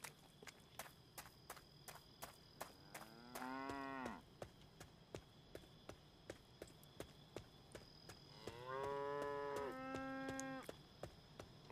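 A cow in a video game moos twice, each a long drawn-out low call, over a steady background of regular ticking footsteps.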